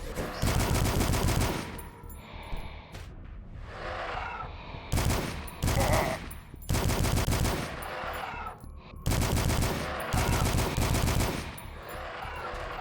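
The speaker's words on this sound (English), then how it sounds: "Let's use the assault rifle." Assault rifle firing in the Till Dawn game, loud sustained automatic bursts in several long volleys separated by short gaps filled with game effects and creature noises.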